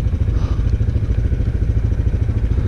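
A dirt bike rides down a trail bank at Windrock, its engine a loud, close, steady low throttle rumble with a rough pulsing chug throughout.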